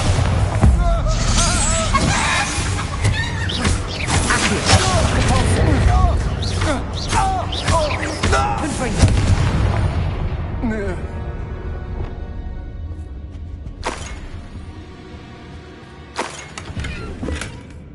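Explosion spells cast in Hogwarts Legacy, including Expulso, Confringo and Bombarda, burst in a dense run of booms and crackling impacts, fading toward the end with a couple of later sharp hits, as voices shout over them.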